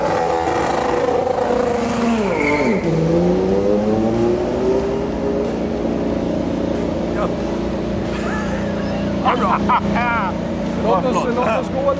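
Race car engine noise at a racing event in Texas, a loud revving tone sweeping down then climbing as the car drives out of the pits, with further bursts of revving later and people talking underneath.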